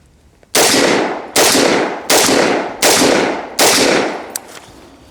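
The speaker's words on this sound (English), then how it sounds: "First up, we're gonna do the DI gun. So 5-round function check." A direct-impingement rifle firing five rounds in a function check during a mud test: five sharp, loud shots at an even pace, each followed by a short decaying echo, with a faint click near the end.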